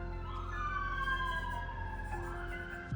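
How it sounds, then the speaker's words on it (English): Wailing emergency sirens, apparently responding to an accident, rise and fall steadily in the distance over a low continuous rumble, heard indoors with no talk. "Don't mind the sirens."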